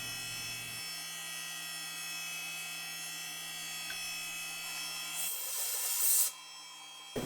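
A CNC mill's end mill spins at roughly 9,000 RPM, cutting a Torx T8 profile into a screw head. It gives off a steady, close tonal whine and hum, and the sound swells into a brighter grinding rasp near the end.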